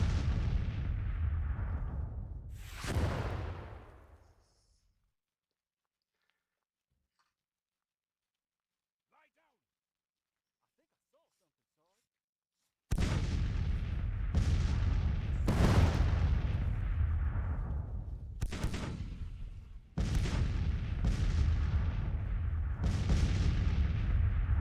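Booming Civil War cannon fire in the Grand Tactician strategy game: a few heavy blasts, then several seconds of near silence, then a rapid series of close, loud artillery shots with rolling low rumble.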